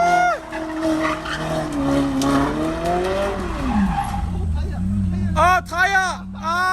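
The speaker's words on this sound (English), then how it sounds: "let me find some footage of him doing the crazy donut until the tires shredded" A car spinning donuts at Tokyo Auto Salon 2020, its engine droning loud and steady while tires screech, with a crowd clamoring and people shouting excitedly near the end.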